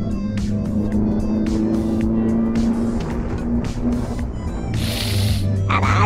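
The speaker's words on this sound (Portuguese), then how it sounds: "olha o caminhão, velho!" A truck rushing close past a fast-moving car at over 90 km/h, with a loud roaring whoosh of engine and road noise and a sharp hissing burst near the end.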